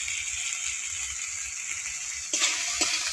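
Chopped tomato with salt frying in hot oil in a pan gives a steady bright sizzle that flares louder as something is stirred or added near the end.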